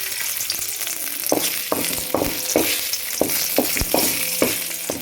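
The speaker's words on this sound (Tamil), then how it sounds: "கொஞ்சமாக நெய் விட்டு முந்திரி இறக்கணும்" Cashews frying in a little ghee for sweet-shop style halwa, a steady close sizzle broken by sharp crackles and stirring clatters repeating every half second or so.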